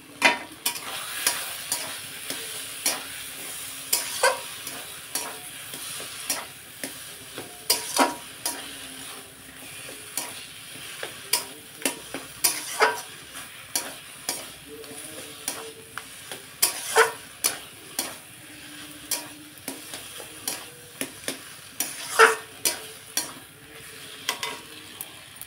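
Kochu shak greens and prawns frying in a pan, a soft steady sizzle broken by repeated sharp scraping taps of a spoon stirring against the metal, with no talk.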